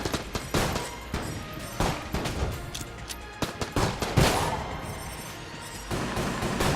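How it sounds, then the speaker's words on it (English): Rapid bursts of gunfire from exploding rounds in Enter the Gungeon, a dense, continuous volley of loud shots and blasts with crashing impacts throughout, no voices. "Exploding rounds, nice."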